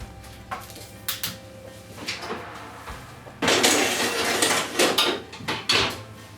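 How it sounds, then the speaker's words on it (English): An apple frangipane tart on a metal tray slides into a home oven, with loud clattering metal knocks and scrapes and a rack or door clunk near the end, close and without talk. "And into the oven it goes."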